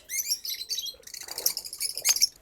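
A bird colony caught together in a cage, where some of the birds have red heads and yellow bodies, gives bright, high, overlapping chirps and tweets close by, with a brief rustle of movement midway.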